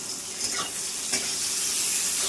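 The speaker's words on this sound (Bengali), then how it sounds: "পেঁয়াজটা এবারে ভেজে নিতে হবে ভালো করে।" Onions frying in oil in a pan sizzle with a constant, crackling hiss, with scraping stirring sounds mixed in at close range.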